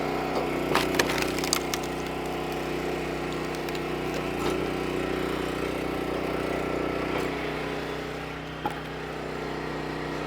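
A 17-ton log splitter with an idling engine drones steadily at an outdoor woodsmen's field days show as it drives through a big log, wood cracking and splintering in sharp snaps over the engine hum.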